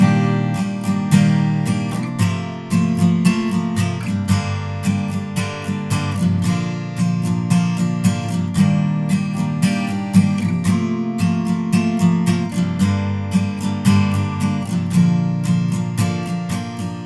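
Steady strummed acoustic guitar chords in a repeating down, down, up, down, up, down, up rhythm, evenly paced and close, with no voices.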